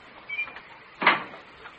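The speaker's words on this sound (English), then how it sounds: "She closed the basement door." A basement door closing in an old radio comedy, a single muffled thud-and-slide of the door near the middle, preceded by faint creaks, in a quiet, slightly boxy recording.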